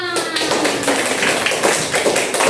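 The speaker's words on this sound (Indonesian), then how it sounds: "Tepuk tangan untuk kita semua." Third-grade classroom of children clapping hands together at a microteaching lesson, dense rapid rattling claps, loud and close, with a voice briefly over the start.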